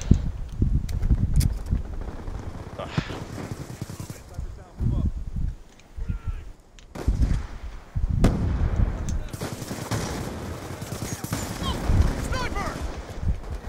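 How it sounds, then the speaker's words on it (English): Gunfire in Call of Duty Black Ops 2, with loud bursts of shots and heavy booming impacts in several clusters, mixed with an excited player talking over the action. "I shot him through the box by accident."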